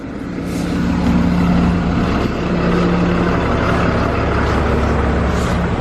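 Street traffic rolls by as someone walks across a street, a steady loud engine drone with passing vehicles and a low rumbling hum throughout, no talking.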